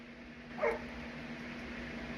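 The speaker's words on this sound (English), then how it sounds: "That's new dog." A dog lets out one short, faint yip, a little distant, over a steady low electrical hum in an otherwise quiet room.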